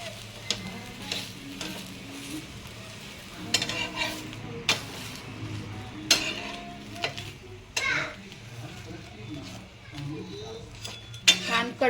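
A moong dosa roasting on a pan, with a low constant sizzle under repeated clinks and scrapes of a spatula against the metal, sharp and close, while a voice speaks intermittently over the cooking.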